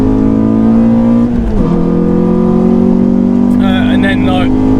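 A Renault Clio 182 engine drones at high revs, stutters briefly as it hits the limiter, then holds a steady buzzing note while a voice talks.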